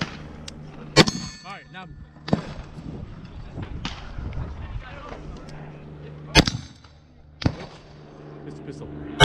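A Knights Armament SR-15 rifle and a pistol fire in turns, sharp cracks spaced a second or more apart, several ringing with a metallic clang of steel targets, while people talk between the shots.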